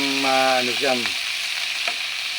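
Sweet potato leaves hitting hot oil left from frying smoked fish, a loud, bright sizzle that flares and then holds steady and close. A short harmonic voice-like sound rises over the start.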